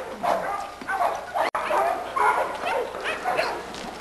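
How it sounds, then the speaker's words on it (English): A small ranch dog yaps in quick, close bursts of high barks, several in a row with a brief gap. "this is the little dog we call Sweepy"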